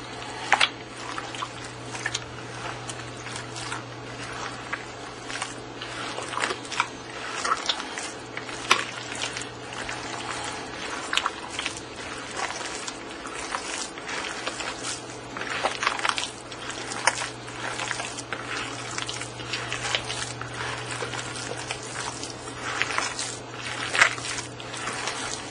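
Wet squishing and soft squelching of hands lightly mixing meat loaf mixture with mushroom stuffing, close and continuous, with a low steady hum beneath.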